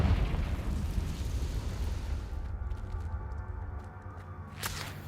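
A Confringo spell blast in the Hogwarts Legacy video game, a deep rumbling explosion that swells loudly at first, then settles into a lower roar and fades out with a faint crackle near the end.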